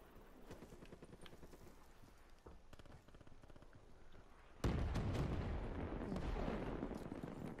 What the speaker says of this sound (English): Those bombs, though.